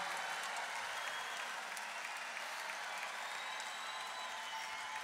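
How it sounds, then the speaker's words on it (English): Crowd applause at a Jeff Austin tribute concert, a continuous even roar of many hands clapping that holds steady throughout, fairly distant and alone without voices. "let's give her a huge hell of a lot of applause right now"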